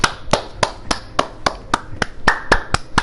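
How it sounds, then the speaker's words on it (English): A single person claps for a developer, about ten sharp, evenly spaced hand claps close to the mic, with no talk over them. "Let's applaud him"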